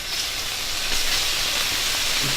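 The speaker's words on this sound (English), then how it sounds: "Now place all that beef in there to sear off." Beef strips searing in hot oil in a wok, a loud, dense continuous sizzle heard up close without speech.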